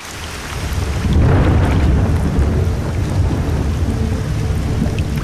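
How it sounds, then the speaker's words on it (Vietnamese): Rain shower with rolling thunder over Lake Constance, a low rumbling swell rising after a second over steady hissing rainfall, continuous and fairly loud. "Bên ngoài, trời lại đổ mưa."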